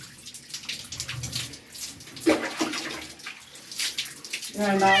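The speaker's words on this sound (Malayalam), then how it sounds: "പൂച്ചയെ കുളിപ്പിക്കുമ്പോൾ നമ്മൾ ദേഹത്തൊന്നും എടുത്തൊന്നും വെച്ചത് ഇങ്ങനെ തറയിൽ നിർത്തി തന്നെ കുളിപ്പിക്കണം" Water splashes and pours in uneven bursts, close by, while a male cat is bathed standing on the floor, with a voice speaking briefly near the end.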